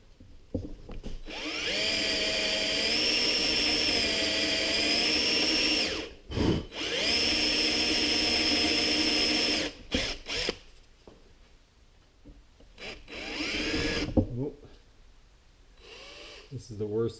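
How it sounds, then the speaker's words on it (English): A power drill with a poor-quality bit works into metal during a Tuff Torq K46 hydrostatic transmission repair, whining loudly in two long runs, then shorter bursts with pauses and clanks between. "this is the worst drill bit in the history of drill bits"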